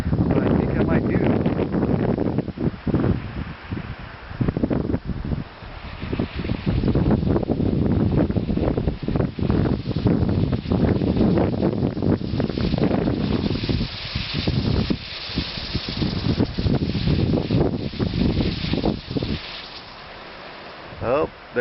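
Wind blowing off the mountains across a campsite with trees and a camper, a continuous broadband rush that gusts loud and close, while someone talks over it.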